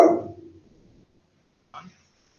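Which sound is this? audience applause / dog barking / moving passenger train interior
dog barking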